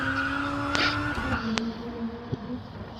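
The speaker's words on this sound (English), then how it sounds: "he is absolutely pushing this Beetle for everything it's got" A turbocharged 2-litre four-cylinder Beetle race car driven flat out in qualifying, its engine holding a steady high-revving drone with brief sharp squeals and a tire skid over a constant buzzing tone.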